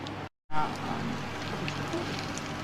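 Tomato sauce simmering in a pan for a chicken parmigiana gives a steady, close crackle and bubble that cuts out for a moment near the start, then carries on evenly with no voices.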